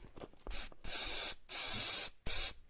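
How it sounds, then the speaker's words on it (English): Three sustained aerosol sprays of starter fluid hiss from a can onto a Honda CRF50 engine, close by, each about half a second to a second long, with brief quiet gaps between them. "I just tried a bit of starter fluid. Watch this. Spray just a bit."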